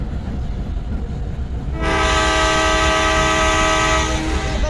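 In the video game Indian Bike Driving 3D, after a low rumbling background, a loud sustained train horn sounds for a few seconds, rich and steady, then fades back to rumble.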